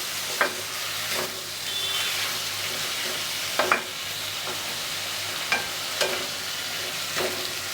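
A spoon stirs chopped tomatoes in a frying pan for egg tomato curry, over a steady sizzle, with sharp scraping clinks every second or so.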